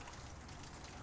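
Light rain falls outdoors in warm, humid weather, a faint, steady, diffuse patter that holds evenly throughout with no voices.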